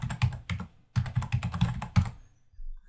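Rapid keystrokes on a computer keyboard as a password is entered, a close, crisp clatter of quick taps in two bursts separated by a short pause, ending in silence.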